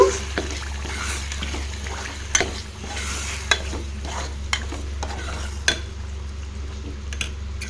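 Tomato masala dal being stirred in a pan, with steady scraping and stirring strokes over a low continuous hum and a few sharper clinks of the spoon against the pan.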